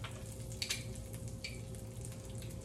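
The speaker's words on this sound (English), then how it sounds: "Garlic cooks pretty fast." Two cloves of garlic frying in a pan for a shrimp and crab bisque, a soft steady sizzle with a few light stirring scrapes over a low kitchen hum, no talking.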